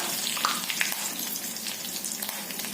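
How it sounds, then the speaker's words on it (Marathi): Mustard seeds, cumin and curry leaves fry in hot oil, giving a steady soft sizzle with scattered small pops and crackles, fairly quiet and close. "मोहरी तडतडू लागली की जिरे घालायचं"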